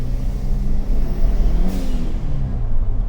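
Ford Fiesta RS Turbo engine under way, a loud continuous mid-range drone with rising and falling revs, close and dominant with no talk over it.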